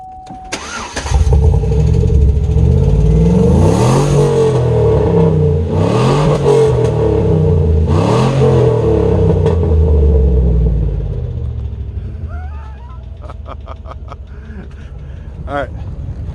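A car engine treated with SeaFoam cranks, catches and starts, then revs up and down in three loud surges before settling to a steady idle, close up, with a voice talking lightly near the end.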